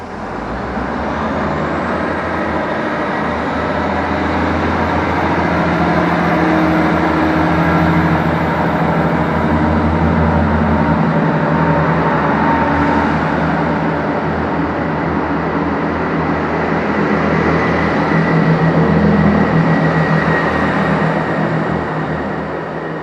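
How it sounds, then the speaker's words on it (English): A 158 train pulls out of Warrington Central station, a steady loud rumble of engine and wheels filling the platform with a thin rising whine above it, continuous and close throughout. "Train now departing is a W158 to Line Street."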